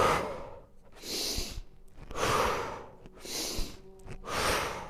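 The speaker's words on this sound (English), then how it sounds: "and then exhale" Slow, breathy exhales during a bird dog breathing exercise, several airy whooshes of breath spaced about a second apart, close and soft, with no talk.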